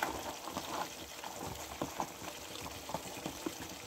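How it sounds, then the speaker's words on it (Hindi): Peas sizzle and crackle faintly in a pot as they fry for chicken pulao, a soft, steady bubbling hiss with small popping ticks and no voices. "अब मैं इसके अंदर मटर डाल देने लगी हूँ, वो डाल के भूनती हूँ"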